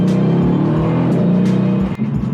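A Mercedes E63 AMG S driven hard gives a loud, continuous engine roar with steady harmonic drone and a brief dip near the end, close and alone with no voices.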